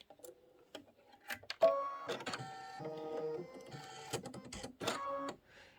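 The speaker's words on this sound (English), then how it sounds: "I'm going to go ahead and put white thread in, white in my bobbin, and I am going to do the quilting." A Candy Corn Quilt Shoppe sewing machine stitches quilting with white thread on top and in the bobbin, rapid mechanical bursts that start and stop in short runs, close and fairly quiet.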